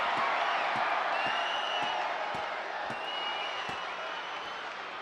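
A virtual wrestling arena crowd in WWE 2K25 roars and cheers in a steady, dense wash of noise, with occasional sharp thumps cutting through. Commentary-like voices sit in the background.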